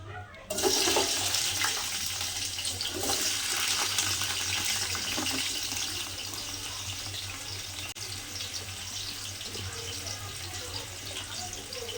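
Half a kilo of large onions sizzling in hot oil for Ambur chicken biryani, a steady broad hiss that sets in sharply after a brief quiet start and holds evenly throughout.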